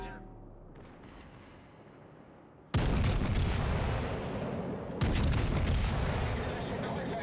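Secondary guns on the Bismarck battleship fire in World of Warships, two heavy booming salvos that roll into a long sustained rumble, loud and close, with a voice speaking briefly before them.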